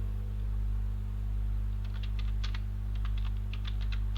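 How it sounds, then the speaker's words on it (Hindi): Keys clatter on a computer keyboard in short, quick bursts of typing, fairly quiet and close, over a steady low electrical hum with no voices. "यहाँ पे हम टाइप करेंगे"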